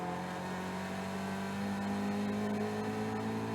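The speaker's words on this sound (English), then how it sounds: "Chris missing the gear as he goes by." A Caterham race car at Oulton Park is heard from onboard as a loud, steady engine drone, with no clear pass or gear change standing out.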